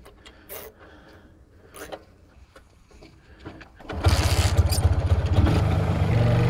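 An MZ ETZ 250 motorcycle: after a few seconds of quiet with faint knocks, its engine bursts into a loud, steady, broadband roar that continues to the end.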